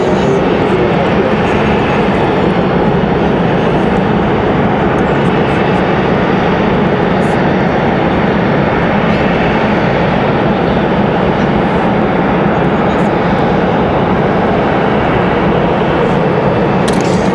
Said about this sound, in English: CRJ ready to head out for departure.